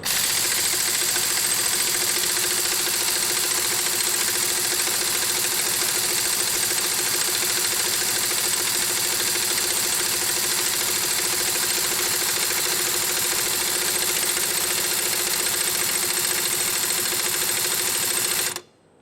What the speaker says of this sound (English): Have to let the compressor build up.